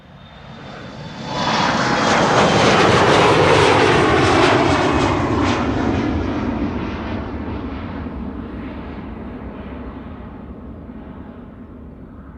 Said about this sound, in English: This is KLM flight 1303 to Gdansk in Poland,